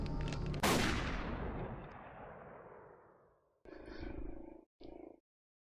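A single loud gunshot in the video game Tokyo Dark cracks out and rings into a long decaying echo, followed by low rumbling game noise.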